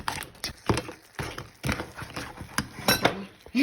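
A spoon stirs egg through curry-powder crab in a pan, giving a steady run of clinks and scrapes against the metal at close range, with brief pauses between strokes.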